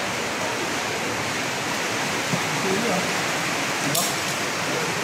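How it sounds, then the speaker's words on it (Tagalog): Heavy rain pours down in a dense, loud, steady hiss that fills the whole scene without letup. "Lakas ng ulan."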